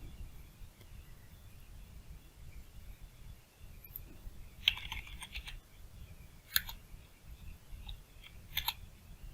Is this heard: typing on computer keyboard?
yes